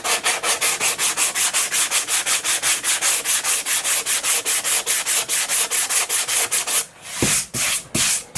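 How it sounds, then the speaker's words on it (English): Steady back-and-forth hand sanding of wood filler on an RC glider elevator, rhythmic strokes at a quick even pace, close and loud, then a few slower, broken strokes at the end. "I put the first application of filler and did some sanding"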